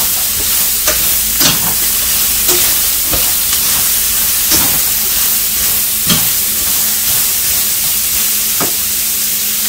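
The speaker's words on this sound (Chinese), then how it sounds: "然后把洋葱放进去，胡萝卜放进去， 翻炒，" Onion and carrot stir-fried in olive oil in a pan, making a loud constant sizzle broken by repeated sharp scraping stirring strokes at an uneven rhythm, with no voices.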